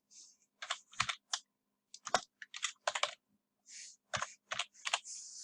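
Quiet, crisp clicks of fingers typing a name on a computer keyboard, coming in short irregular bursts of keystrokes separated by brief pauses.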